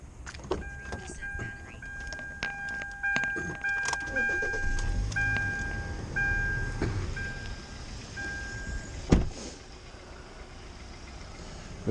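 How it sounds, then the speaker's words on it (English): A car started on a cold winter day, with clicks and a warning chime at first, a low engine rumble, a sharp thud near the end, then a quieter idle. "I'm gonna warm the car up."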